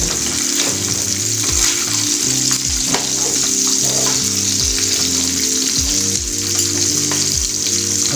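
Fish sizzles in oil on a tawa over low heat, a continuous bright crackle and hiss with occasional sharper pops, close and steady with no talking.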